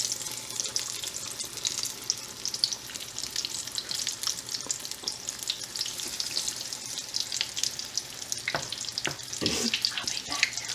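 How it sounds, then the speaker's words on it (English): Apple fritter batter frying in hot oil, a steady bright sizzle and crackle running the whole time with a few sharper pops and spatters near the end, fairly close and without talk. "So I'm going to get a scoop full and put it in to fry."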